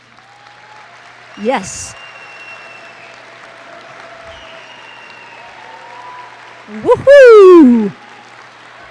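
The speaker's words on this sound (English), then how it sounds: "could you all stand for a round of applause?" An audience at a school award ceremony in New Mexico applauds the school staff, and the clapping swells into a short burst. Cheers and a shouted voice rise over the applause.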